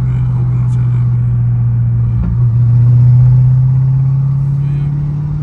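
Dodge Charger Scat Pack with a loud exhaust heard from inside while driving: a deep, steady engine drone that swells slightly midway as the car pulls, continuous and close throughout.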